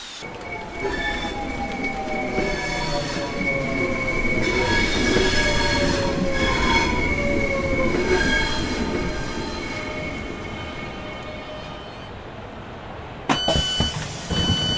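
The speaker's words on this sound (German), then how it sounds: "Bitte warten Sie auf die Einfahrt Ihres Zuges." A Southeastern high-speed train pulls into a station in Train Sim World 2, its loud rumble and whining, descending wheel squeal carrying on for several seconds before a sharp clunk near the end, with no talking.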